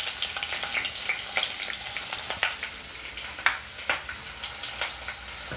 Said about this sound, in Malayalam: ഞാൻ ഇഞ്ചിയും പച്ചമുളകും കട്ട് ചെയ്ത് വെച്ചത് ഇട്ട് കൊടുക്കാം കേട്ടോ.